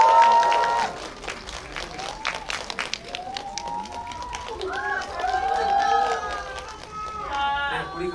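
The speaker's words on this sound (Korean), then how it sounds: "박수로 맞이해 주십시오." Cinema audience at a guest-visit screening event welcomes the arriving actors with scattered clapping and cheering, while a host's voice and crowd chatter run over it and excited shouts rise toward the end.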